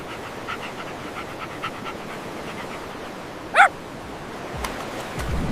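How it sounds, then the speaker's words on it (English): An AI-generated golden retriever puppy gives a single short bark midway through, over a steady hiss of sea waves and a soft breeze. "a proper little video with the sound already sitting inside it, the waves and the bark and all"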